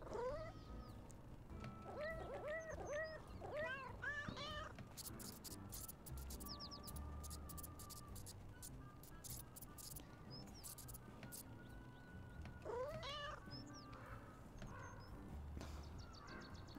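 Cartoon cat meows from the video game Little Kitty Big City repeat in short bursts near the start and again later, faint over game music and background noise, with clicks and rattles between them.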